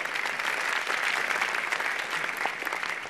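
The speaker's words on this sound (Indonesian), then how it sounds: "kita beri tepuk tangannya meriah ini ya, Dokter Tarek" Steady applause from a studio audience greets comedian Dokter Tarek at a stand-up comedy open mic, dense and even clapping filling the room without pause for about three seconds.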